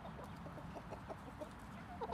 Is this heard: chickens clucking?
yes